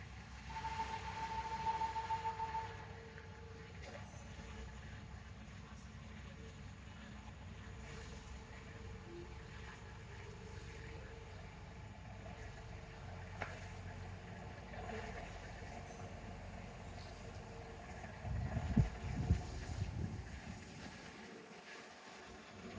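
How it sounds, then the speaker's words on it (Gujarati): An engine runs at a steady idle with a low, continuous rumble from start to finish. Louder knocks and rustles arrive near the end, and no voice is heard. "એન્જિન ચાલુ થઈ ગયું છે."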